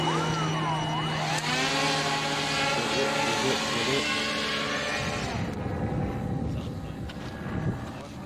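A model airplane's propeller engine drones loudly and steadily after a hand launch at Mission Bay Field, its pitch shifting as the plane flies off, with people talking faintly beneath.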